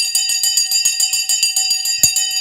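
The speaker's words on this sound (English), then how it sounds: "The bell has gone." A stock market closing bell rings in fast, even strikes, bright and metallic, repeating about five times a second throughout. It sounds loud and close, with no voices.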